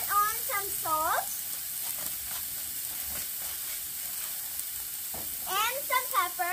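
Veggies frying on a Blackstone flat-top griddle give a steady sizzle and hiss through the whole stretch, with bursts of speech near the start and again near the end.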